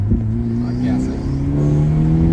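2022 Hyundai Elantra N engine revving hard under acceleration, a loud close exhaust note climbing steadily in pitch; a voice speaks over it.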